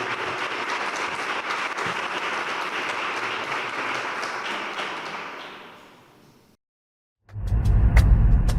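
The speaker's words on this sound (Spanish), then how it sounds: "yo le voy a pedir un aplauso muy grande a Vanessa Orrán y a su academia" Applause from a Pride Day conference audience fills the first six seconds as dense, steady clapping that fades out to silence, then loud low-pitched noise begins abruptly near the end.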